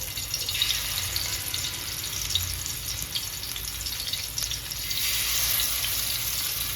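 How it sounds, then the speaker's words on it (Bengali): Masala-coated fish pieces frying in hot oil, a steady crackling hiss with bright spitting pops, close and continuous with no talk. "এরপর একে একে মাছের পিসগুলা তেলের মধ্যে ছেড়ে দেবো"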